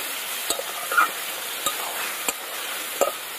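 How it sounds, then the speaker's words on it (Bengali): Spice masala with turmeric, coriander powder, salt, chilli paste and ginger paste sautés in a pan with a splash of water, giving a soft sizzle broken by sharp spatula scrapes and taps. "হলুদ, ধনে গুঁড়ো, লবণ, একটুখানি জল দিয়ে মশলাটা ভালো করে একদম কষিয়ে নিতে হবে"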